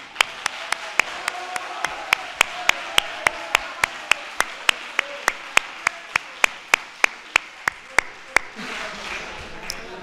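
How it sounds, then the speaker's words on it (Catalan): An audience at a Batxillerat diploma graduation ceremony at INS Manuel de Pedrolo claps in steady unison, with sharp, evenly spaced beats about three per second. The clapping breaks into looser, scattered applause near the end. "Molt bé, molt bé, aplaudiu-se."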